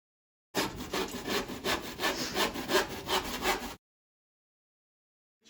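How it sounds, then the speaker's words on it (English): Close, loud strokes of a hand saw cut through wood wall panelling in a quick, even back-and-forth rhythm for about three seconds, then stop abruptly into silence. "So bring the saw back a little bit."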